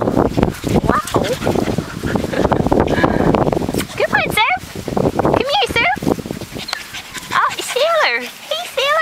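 Several young puppies, about six and a half weeks old, bark and yip in high, choppy bursts, with whimpers and squeaky yelps scattered throughout; a person talks softly to them over the noise.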